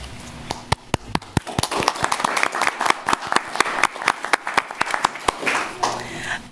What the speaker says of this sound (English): So I want to give them a thanks and an applause to them